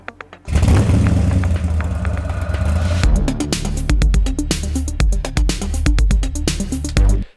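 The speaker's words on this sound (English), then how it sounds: "another one here which has got someone using their keys to start the engine" Foley of keys starting a car engine: a rattle and crank give way to a rumbling engine, and partway through a punchy rhythmic beat joins, running loud until a sudden stop.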